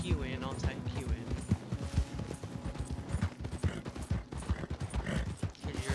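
Rapid clip-clopping horse hooves thud in a quick, steady rhythm in Red Dead Redemption 2, close and fairly loud, layered with other game sounds.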